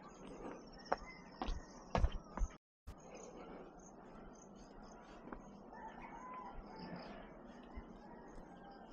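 Birds chirp and call at a distance on a calm morning near a cemetery in Davao, a thin scattered layer over low ambient hum with a few sharper nearby knocks and a brief dropout.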